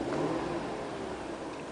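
A 2009 Chevrolet Suburban LT with a 5.3-liter V8 revs briefly, a close, steady engine roar that eases off slightly toward the end.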